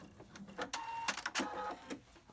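A home sewing machine stitching across a thick fabric seam, with short bursts of mechanical whirring and clacking as it runs forward and backward, fairly quiet and close, with pauses between runs.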